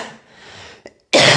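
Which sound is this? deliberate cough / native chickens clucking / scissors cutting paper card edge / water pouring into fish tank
deliberate cough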